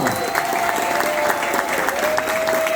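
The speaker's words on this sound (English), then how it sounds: "let's give a round of applause for our City Councilwoman, Diana Ayala, our Deputy Speaker." A crowd applauds steadily throughout, dense clapping with a sustained tone running underneath.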